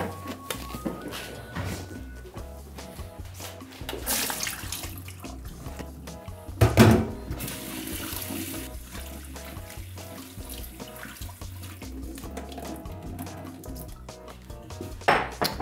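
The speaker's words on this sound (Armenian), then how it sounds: "հոսող ջրի տակ լվանալ։" Barley groats rinsed under a running kitchen tap, a steady stream of water splashing into a sink with occasional clinks of a bowl or dish, one sharp knock near the middle, no talking.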